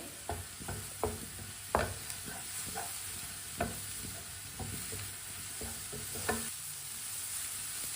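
Eggs frying quietly in a pan with a constant low sizzle, punctuated by occasional light taps and scrapes of a spatula at irregular intervals.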